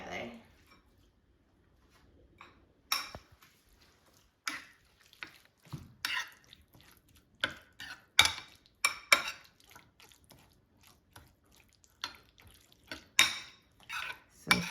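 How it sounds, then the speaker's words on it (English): Greek yogurt tuna salad being stirred in a bowl after a lemon squeeze, with soft intermittent scraping and clinking of a utensil against the bowl, fairly quiet with pauses between strokes. "So here I'm going to squeeze some lemon and then mix everything together."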